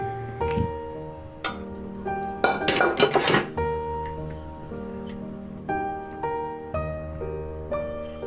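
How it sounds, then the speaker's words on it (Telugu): Cooked raw-mango dal is served into a bowl with a few light clinks and scrapes of a spoon against the dish and one brief busier clatter, heard over soft background music. "పప్పు బౌల్లో తీసుకోవాలి."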